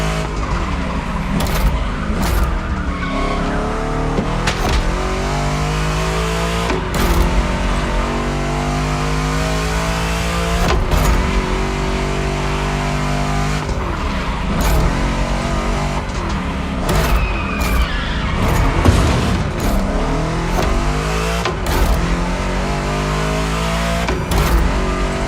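Two Chevy big-block race cars in The Crew Motorfest roar loudly and continuously, their engines climbing and dropping through repeated revving sweeps with sharp shift cuts, with no talking.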